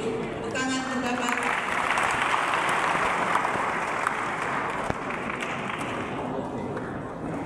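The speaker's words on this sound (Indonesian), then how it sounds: "Tepuk tangan untuk Bapak." An audience in a church question-and-answer gathering applauds, a dense, sustained wash of clapping that swells after a short spoken call and holds steady for several seconds.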